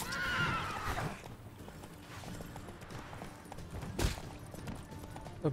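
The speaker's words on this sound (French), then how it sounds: "Il y a des gens avec des chevaux maintenant? Des chevaux?" Horses in The Witcher 3: Wild Hunt whinny loudly at the start, then hooves clip-clop in a fairly close, busy patter, with another sharp neigh near the end.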